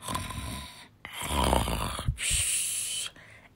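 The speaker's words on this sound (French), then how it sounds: "Monsieur Duvet sera donc bombardé de ronflements" Loud, close snoring in repeated rasping breaths, each drawn-out rumble separated by short quiet gaps, around three snores in a row.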